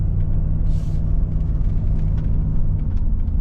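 A Jeep Grand Cherokee WJ driving in gear at about 20 miles an hour, a loud steady low engine and road rumble heard from inside, continuous with a brief airy hiss near the start.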